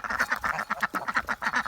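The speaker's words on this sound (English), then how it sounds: "This is what ducks do." Several ducks quack in quick, rhythmic bursts, fairly close and steady, with no other sounds over them.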